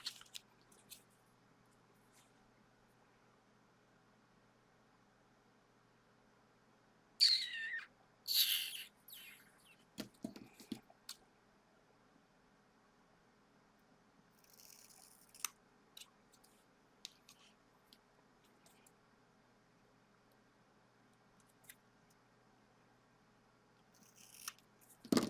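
Scissors snip through stamped lace paper in a quiet room, a few short crisp cuts clustered together with long silent gaps between.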